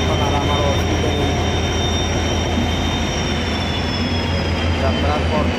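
A Guwahati–Silchar special passenger train on Indian Railways runs with a steady, loud rumble and rolling clatter, a continuous low drone with a faint high whine above it.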